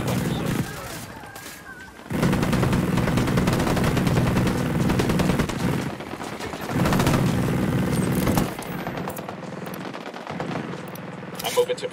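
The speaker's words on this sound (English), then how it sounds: "I'm shooting these fuckers." Bursts of automatic gunfire from Ghost Recon Wildlands rattle loudly in several sustained volleys with short pauses between them, while a player's voice is heard at times.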